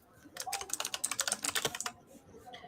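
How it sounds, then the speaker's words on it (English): Rapid typing on a computer keyboard picked up close to a microphone, a dense burst of clicking keystrokes lasting under two seconds before trailing off. "I'm like trying to type, but my keyboard and my microphone are so close together"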